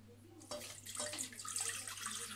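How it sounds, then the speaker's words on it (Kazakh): Water poured from a tap or jug into a saucepan holding butter, a bright splashing stream that starts suddenly and runs on steadily, fairly close, over a low constant hum, while making choux pastry for eclairs. "Үстіне су құямыз."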